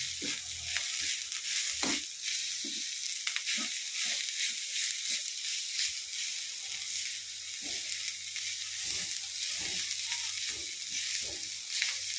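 Finely chopped kodangal leaves sizzle and fry in a pan for a thoran, a steady hissing sizzle broken by intermittent stirring scrapes and clinks, close and moderately quiet, with no talking.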